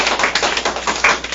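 Audience at a book forum applauding with quick, sharp hand claps in a brisk irregular patter, close and steady for a short burst.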